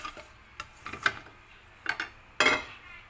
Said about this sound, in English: Now we have to remove this from the pan.